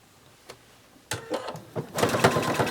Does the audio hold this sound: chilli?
no